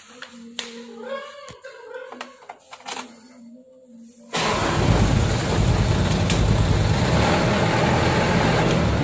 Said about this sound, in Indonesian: sekarang coba hidupkan mesin.